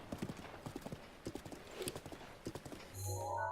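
Horse hooves clip-clop in a steady galloping rhythm in Zelda: Breath of the Wild, continuous and moderately close, with a soft game chime tone rising at the end.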